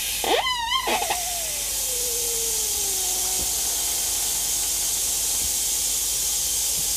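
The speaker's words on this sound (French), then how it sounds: "C'est un petit pistolet que j'ai transformé en pneumatique, donc c'est pas tellement le top parce que j'ai quelques fuites d'air" A home-converted pneumatic gun extruding liver bait paste for boilies hisses steadily from leaking air; a brief rising whistle opens, then a constant close, loud hiss runs alone to the end.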